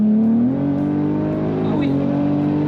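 Tuned Cadillac ATS-V with over 600 hp braking hard, its engine note dropping in pitch and then holding a low drone, heard close from inside with a voice speaking over it.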